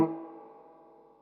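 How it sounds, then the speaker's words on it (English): A single guitar note through a MoSky mechanical spring reverb rings out and decays slowly into a shimmering, metallic reverb tail, quiet and close. "And there's that distinctive mechanical spring reverb sound."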